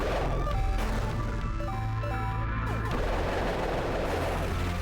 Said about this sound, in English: all shots have a slight explosion to them.